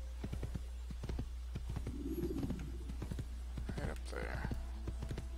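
Horse hooves clip-clopping in the Assassin's Creed video game, a quick run of sharp, evenly spaced hoof strikes with birdsong in the background and someone briefly talking over it.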